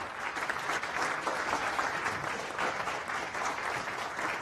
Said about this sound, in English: So please, big round of applause for Stephen.